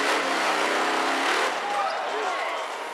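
A Jeep with a modern fuel-injected engine revving hard at a Chambon-sur-Jeep gathering, a loud sustained roar that eases off after a moment.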